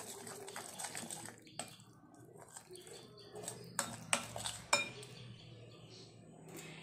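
Oil being worked into a marinade for hilsa fish in a bowl, close wet squelching and mixing with scattered clinks of a spoon against the bowl, fairly quiet and irregular.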